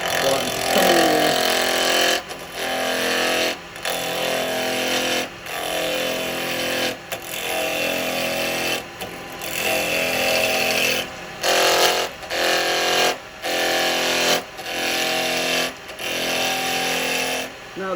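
A wood lathe spins wet wood at about 2500 RPM while a tool cuts a miniature cowboy hat, giving loud, close, rasping bursts broken by short pauses as the tool lifts off.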